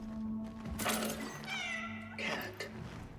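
A cat meows in the game Cronos: The New Dawn, two or three short tonal mews over a steady low drone and game ambience, fairly close and clear.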